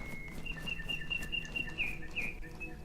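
Birds chirp in an outdoor forest in the video game DayZ, repeated high tweets in quick runs over quiet ambient noise, faint and steady.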